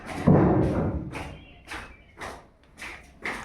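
Heavy thudding footsteps indoors as someone repeatedly gets up and climbs down, a series of dull thumps in an uneven rhythm, fairly close.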